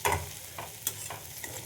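Tomato, onion, ginger and garlic frying in a pan for a potato and yogurt dish, a soft continuous sizzle broken by a few quick stirring scrapes, close and unaccompanied by talk.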